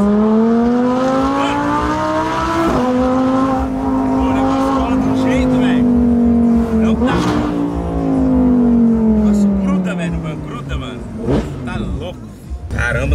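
Audi R8 engine roaring under hard acceleration, a loud sustained howl climbing through gear changes with brief breaks, then fading as the car pulls away, with people talking over it near the end.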